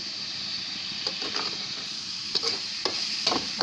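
Bhaji greens with salt frying in a pan, with a steady sizzle and intermittent scraping clicks from a spoon stirring them.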